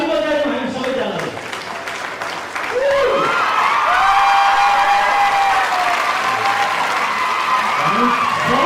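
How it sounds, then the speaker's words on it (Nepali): Wedding guests at a Nepali-Dutch wedding celebration clap together in steady applause that swells and holds at a loud level to the end, with crowd noise and a voice speaking over it. "ताली बजायौँ हामी सबैजनाले।"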